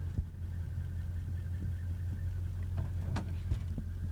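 A 1947 Ford Coach engine idling quietly with a low, steady hum and faint irregular ticks, close and unaccompanied.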